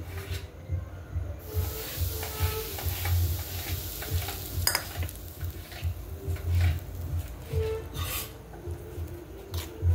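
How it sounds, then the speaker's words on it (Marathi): Sieved semolina and refined flour are stirred and mixed in a pan with a continuous soft scraping and a light sizzle under a low hum, with no talking. "हे लगेच आपल्याला मिक्स करायचंय"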